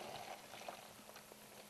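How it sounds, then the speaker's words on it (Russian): Brewed tea is poured into bottles outdoors on a fishing trip on the Amga River, a soft, close bubbling and gurgling of liquid that is faint and continuous and lasts under two seconds. "Заливаем сваренный чай"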